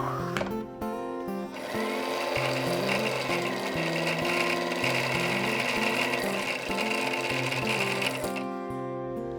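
A line winding machine spools fly line onto a fly reel spool with a steady, continuous mechanical whir and hum that starts up after a brief pause and runs evenly at close range before slowing near the end.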